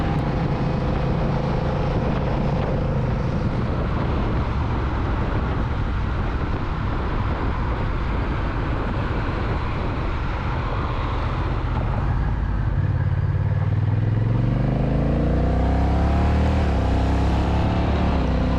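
A Honda Rebel 1100 DCT motorcycle roars continuously under heavy wind rush, its engine note climbing in pitch through quick automatic gear changes as it accelerates hard near the end.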